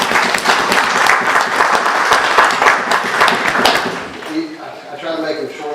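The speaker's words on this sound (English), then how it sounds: "I'd like to give them a round of applause" A crowd claps loudly for officers and firemen, dense applause lasting about four seconds before tapering off, with a voice starting to speak as it fades.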